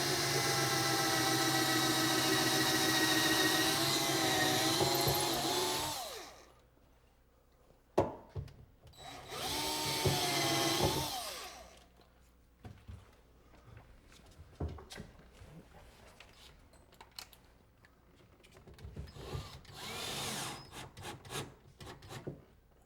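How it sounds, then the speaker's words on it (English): A power drill bores a pilot hole into the wooden stile of a kitchen cabinet in two long whirring bursts, each several seconds long and close to the microphone, followed by scattered knocks and handling sounds. "you drill a pilot hole that is going to be precisely down the middle of the stile"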